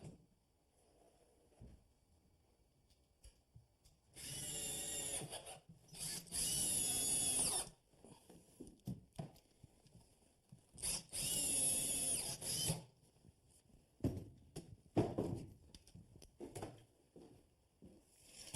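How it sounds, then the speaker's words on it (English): A power drill drives 1¼-inch panhead screws to join kitchen cabinets together, giving two clear whirring bursts followed by shorter intermittent runs, close and fairly quiet. "I want to screw the cabinets together as a unit using these 1¼ panhead screws"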